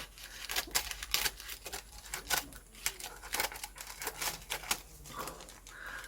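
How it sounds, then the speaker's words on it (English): Repeated crisp snips of glue scissors cutting through paper for a collage book, irregular and close, with light rustling between cuts. "Let's get my glue scissors out, and I think I'm just going to cut along here."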